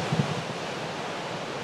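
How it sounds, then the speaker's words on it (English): Strong late-October wind gusts roar as a dense, steady rush of noise, buffeting loudly with no pauses. "It's pretty windy"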